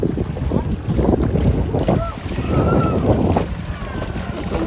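Strong waves slap a boat at sea off a flooded shore at Calamba, Laguna, under a loud, continuous wind roar buffeting the microphone.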